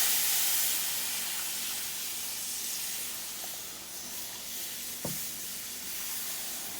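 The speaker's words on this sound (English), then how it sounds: "now I'm going to add my milk in" Milk poured into hot, smoking bacon grease gives a broad, steady hiss and sizzle that is strongest at first and slowly settles, with a single soft knock partway through.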